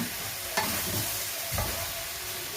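Meat ribs sauté in a hot pan, giving a steady close sizzle broken by a couple of sharp stirring scrapes.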